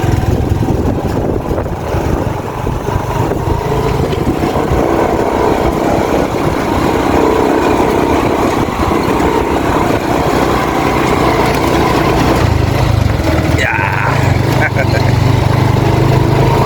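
A motor engine runs steadily nearby beside a river in Bulacan, its continuous loud droning hum persisting throughout, with people talking over it.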